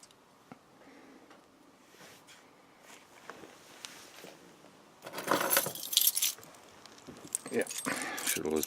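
A set of metal keys is pulled from a large rack and jangles loudly up close for a few seconds, after a quieter stretch of faint handling and shuffling.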